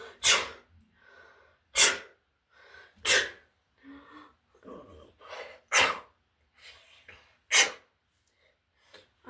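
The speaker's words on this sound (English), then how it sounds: "I'm sneezing." A person who drank a sneezing potion lets out a rapid run of about five forceful sneezes, close and loud, with soft gasping breaths and small noises filling the gaps between them.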